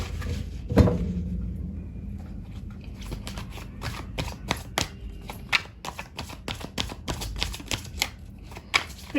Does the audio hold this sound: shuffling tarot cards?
yes